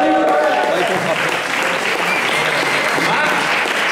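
Audience at a slam poetry competition applauding, loud dense clapping close up and sustained throughout, with a voice faintly mixed in beneath.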